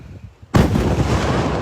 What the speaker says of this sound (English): the volcano is erupted.